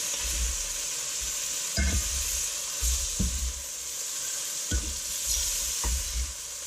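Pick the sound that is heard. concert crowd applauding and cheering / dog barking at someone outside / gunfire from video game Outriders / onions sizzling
onions sizzling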